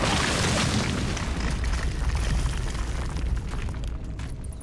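A loud, sustained explosion rumbles from a grenade-like blast in the hunting video game Cabela's Dangerous Hunts. The deep boom rolls on for several seconds and slowly decays, with no voices over it.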